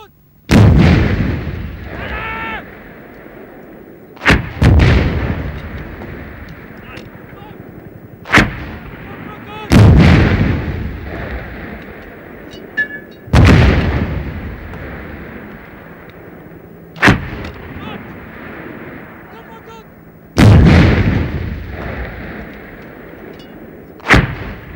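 Bofors gun firing HE rounds: six loud, heavy shots spaced several seconds apart, each a sharp blast followed by a long rumbling decay across open ground, with no talking.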